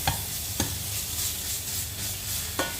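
Garlic sizzles steadily in a hot pan for Filipino green beans, with a constant frying hiss broken by three sharp scrapes of a utensil stirring it, close and alone without talk.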